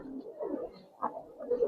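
Giribaz pigeons coo softly nearby in low, throaty murmurs. A few short swells come and go irregularly.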